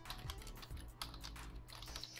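Keys clatter on a computer keyboard as a realtor's telephone number is typed in, a steady run of close, quick taps with no talk over them.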